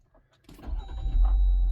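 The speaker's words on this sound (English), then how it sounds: "I'm just gonna start the car" A Jeep Wrangler Willys JLU starts after quiet button clicks, the engine catching about halfway through with a rising whir, then settling into a steady, close, low rumble.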